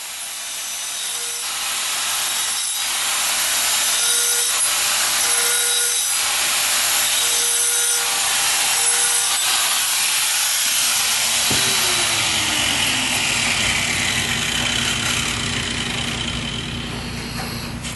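A grinding wheel shaping an old saw blade into a knife gives a loud, continuous hissing grind, close up, with a motor hum whose pitch drops near the end as the wheel slows.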